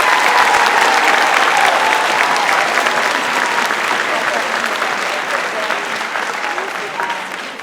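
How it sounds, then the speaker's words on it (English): A crowd at an 8th-grade promotion ceremony gives loud, dense applause for a teacher and the middle school band, sustained for several seconds and tapering off gradually toward the end. "Let's have another round of applause for Ms."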